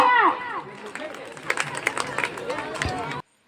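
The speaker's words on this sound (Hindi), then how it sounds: "ड्रामेबाजों के लिए जोरदार तालियां" Audience clapping at a school annual function, a dense, lively patter of many hands with some crowd noise, starting after a brief voice and cutting off abruptly at the end.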